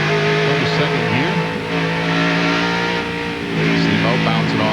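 1998 NASCAR Craftsman Truck Series race truck downshifting into a corner at Watkins Glen, engine pitch dropping and climbing through loud, close revving over crowd and track noise, with a commentator talking over it.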